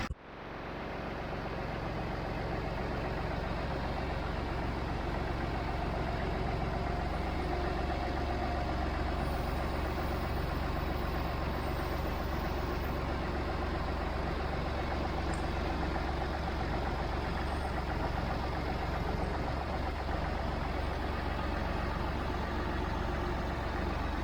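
A 1962 Massey Ferguson 50 diesel tractor engine idles steadily and continuously, a deep low rumble with a constant drone, close by and with no talking.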